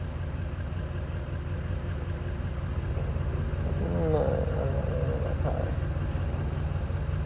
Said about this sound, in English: That ain't my car you're hearing there, A3. That's a car beside me.